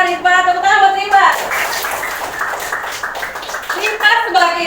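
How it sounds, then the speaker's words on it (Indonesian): Students in a grade 7 classroom clap for a classmate after her presentation, a brief burst of hand claps between stretches of a teacher's voice, with talk before and after. "Tepuk tangan buat Rifa"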